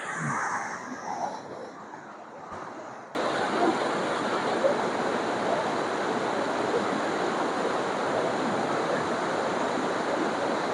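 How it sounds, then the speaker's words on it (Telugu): A small forest waterfall rushes as a loud, steady broadband roar close by. It starts abruptly after a quieter stretch of soft outdoor ambience and then continues unbroken. "మినీ వాటర్ ఫాల్ ఇదే అనమాట"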